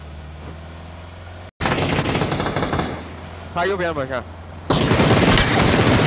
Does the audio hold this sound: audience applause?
no